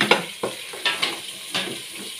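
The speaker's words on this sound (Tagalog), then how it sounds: "Ginisa ko na po siya sa bawang at saka sa sibuyas" Meat sautéing with garlic and onion in a pan, a steady frying sizzle broken by several scraping stirs of the spatula, close and moderately loud, with no talking.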